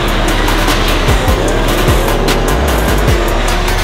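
Race cars at speed on the Croix-en-Ternois circuit, a Nissan among them: loud, continuous engine roar with rising and falling pitch sweeps as cars pass close by, plus brief tire squeal.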